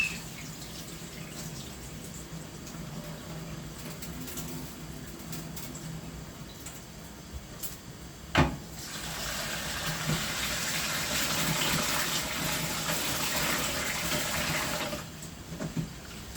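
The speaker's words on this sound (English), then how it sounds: "Getting my rice washed. One wash." Tap water running into a pot while basmati rice is washed, a steady gushing flow with a sharp clunk midway, then a louder, fuller rush of water.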